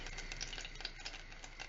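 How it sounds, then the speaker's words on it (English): Tomatoes fry in a pan with a soft, steady sizzle and crackle, close by and fairly quiet, with faint scraping like stirring. "That's the sound of the tomatoes frying."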